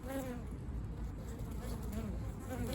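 Bees swarm and buzz steadily around a spring hive that has fallen apart, a dense continuous drone filling the space at close range with no talk over it.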